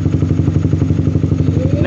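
A Honda CBR150R motorcycle idles close by, its engine putting out a steady, rapid low throb that holds even for about two seconds, with a faint rising tone near the end.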